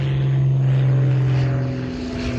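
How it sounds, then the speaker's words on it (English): A propeller airplane drones overhead, a steady loud engine hum with a low throbbing tone that swells and slightly fades as it passes, with no talking. "that's a nice plane there."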